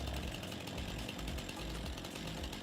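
Chainsaw in the Farming Simulator 25 video game, used with a tree-cutting mod: a steady, loud, rattling mechanical drone that runs unbroken throughout, with no talk.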